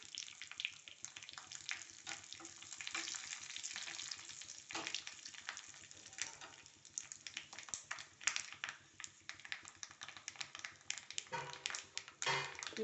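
Curry leaves and asafoetida hitting hot oil for a rasam tempering, a steady crackling sizzle with sharp spits and pops, close and fairly quiet, with faint speech underneath.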